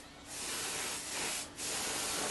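Paint spray gun hissing inside a workshop while spraying self-mixed pigmented paint, a loud steady broadband hiss in three bursts with brief dips between, no talk.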